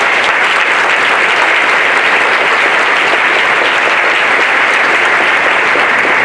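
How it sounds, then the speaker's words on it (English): Dense, steady applause from a large luncheon audience fills the room at a loud, even level throughout, with no pauses or talking. "We just have to have a round of applause for these people."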